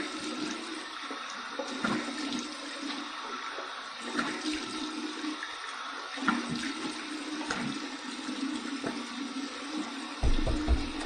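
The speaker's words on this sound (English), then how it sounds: "Here's my cold water rinse." Tap water runs steadily into a bathroom sink for a cold rinse after a shave, a continuous close splashing stream with small shifts as hands move through it.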